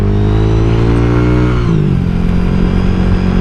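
Honda Vario 125 scooter engine on a test ride, a loud steady hum that drops in pitch partway through as the throttle eases, with no voices.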